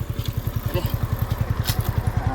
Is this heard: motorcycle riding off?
yes